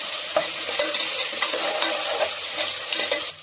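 Ginger garlic paste sautéing in hot oil for pulao, a loud continuous sizzle with soft stirring scrapes, close up and alone.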